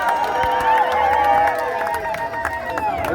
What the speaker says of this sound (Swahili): Mpigie makofi.